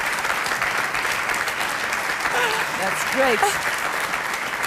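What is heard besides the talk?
applause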